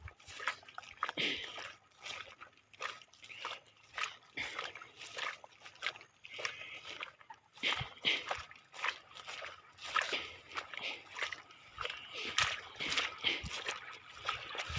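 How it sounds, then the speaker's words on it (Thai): Water flows strongly through a rice field, a steady, busy gurgling and splashing current that stays constant throughout at moderate volume. "นี่ตรงนี้น้ำไหลผ่านแบบแรงเลยนะครับ เป็นกระแสเลยตรงนี้"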